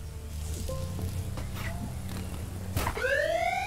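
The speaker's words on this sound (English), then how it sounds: "I just heard police sirens, but those are my horns." Vehicle horns in the Trailmakers video game wail like police sirens, with a rising whooping tone that sweeps up near the end over a steady engine hum, moderately loud.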